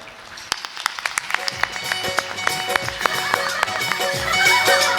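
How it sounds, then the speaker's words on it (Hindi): Scattered hand claps from an audience at a Bhagwat Katha gathering in Khargone, honouring performers of a short devotional play, rising into denser clapping toward the end over a steady background with voices and tones. "आप सब लोग ताली बजा करके उनका सत्कार करें।"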